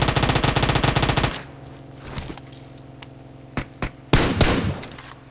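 Loud automatic gunfire in a PUBG Mobile match, a fast burst of shots followed by a few isolated single cracks and short bursts further off.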